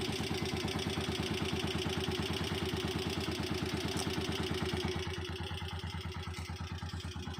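A 2022 Honda TMX125 Alpha motorcycle idles close by with a steady, even chug of rapid engine pulses that stays constant for the whole stretch, dropping slightly in level near the end, with no talking.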